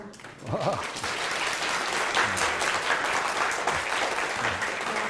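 An audience applauds after an award recipient's lecture, with a brief voice at the start before a full, steady round of clapping from many hands fills the room and continues evenly.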